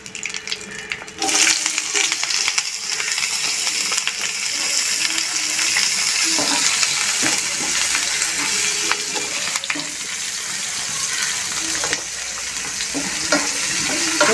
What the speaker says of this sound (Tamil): அப்புறம் நம்ம இதில் நம்ம வெங்காயத்தை அரிஞ்சு வச்சுருக்க வெங்காயத்தை போட்டுப்போம்.